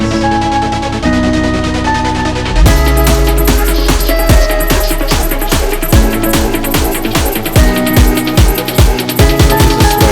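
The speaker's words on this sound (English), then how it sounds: "I'll swell out the melody, and that creates that crazy EDM sound." A bright synth melody swells up over a pounding four-on-the-floor electronic dance beat, loud and dense, with no voices.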